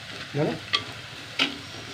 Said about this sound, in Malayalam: ഉള്ളി നന്നായി വഴറ്റിട്ടോ